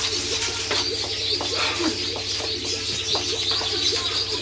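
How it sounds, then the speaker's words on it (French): Birds call repeatedly over a loud, steady outdoor ambience near Yaoundé, with pigeon-like coos and chirps sounding amid constant background hum and noise. "C'est même quel genre d'oiseau là-bas, Laetitia?"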